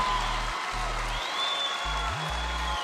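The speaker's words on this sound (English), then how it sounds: "that always gets like the biggest applause" Crowd applause at a Donald Trump rally forms a continuous, fairly loud roar of clapping, with low droning tones running underneath.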